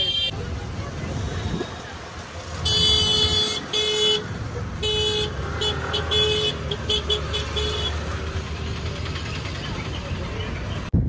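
Shuttle vehicle carrying visitors from a parking lot to the Jagannath temple in Puri, Odisha: a steady engine and road rumble throughout, with several short horn toots from traffic in the middle stretch and talk over it.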